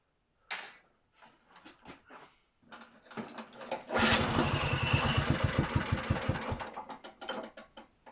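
A Honda HR21 lawn mower is pull-started: several sharp cord pulls and brief sputters, then the small engine catches and runs with a rapid, throbbing chug, close and fairly loud.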